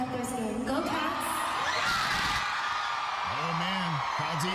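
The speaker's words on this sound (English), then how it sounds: "Crowd's eating it up." A large arena crowd at a concert cheers and whoops continuously, loud and dense, with scattered shouts and a voice rising through the din near the end.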